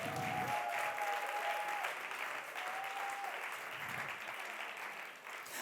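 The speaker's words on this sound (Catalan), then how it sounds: "Aplaudilo ben fort" An audience at an award ceremony applauds in a long, steady wash of clapping that carries on throughout, with a few faint whistles or cheers in the crowd.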